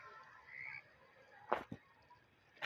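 Over a quiet hum, a few short, raspy video game frog croaks sound in quick succession, then one more.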